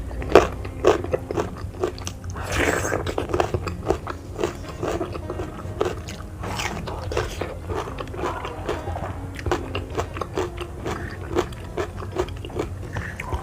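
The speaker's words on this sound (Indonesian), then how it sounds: "Ini ada yang request katanya makan jengkol mentah kayak sambal rujak." Raw jengkol eaten with sambal rujak, close loud crunching bites followed by repeated wet chewing and crackly mouth sounds throughout, with no talking.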